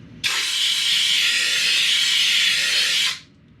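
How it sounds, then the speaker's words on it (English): An air compressor nozzle blasts air over a part from an MTD snowblower with a Tecumseh 5hp engine, giving one loud, steady hiss close by that lasts about three seconds before cutting off. "Just blow it off with the air compressor so it's dry."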